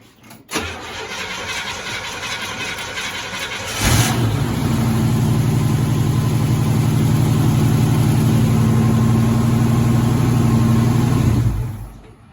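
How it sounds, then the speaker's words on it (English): An old truck engine left sitting for 20 years cranks, then fires at about four seconds into a loud, steady mid-pitched idle that runs close and alone for several seconds before cutting off. "see if the engine would start"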